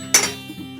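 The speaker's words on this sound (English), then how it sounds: "I'm just going to use an old-fashioned smasher" An old-fashioned smasher strikes a pot while mashing refried beans, giving one sharp metallic clink followed by a couple of softer knocks, close and alone.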